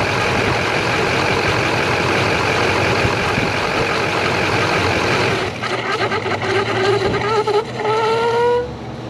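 A Duramax diesel truck engine runs roughly and loudly throughout, with a steady heavy rumble that turns ragged and uneven partway through, as if surging and shaking, up close with no talk.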